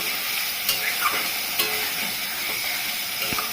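Spice masala frying in a pan, a steady close sizzle with occasional light scrapes and stirs of a spoon through the paste, no talking.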